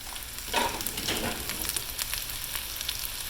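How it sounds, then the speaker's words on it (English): Swiss round steak cooking in a braiser on the stove, a steady bubbling sizzle with a brief louder burst of crackle near the start, then an even simmering hiss. "let it start simmering for supper tonight"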